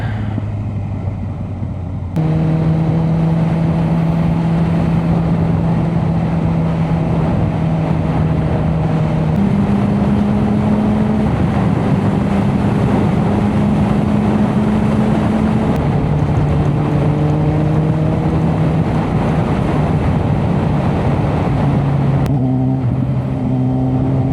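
A motorcycle rides along a road, a loud continuous engine drone close to the rider that steps through gear changes in pitch as it accelerates and settles, with wind rush throughout.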